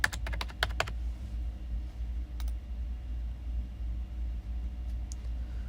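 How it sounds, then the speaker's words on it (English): An SKU number is typed on a computer keyboard in a quick flurry of close, crisp key clicks, followed by a few isolated taps over a low background hum. "If you do not type in the right SKU number"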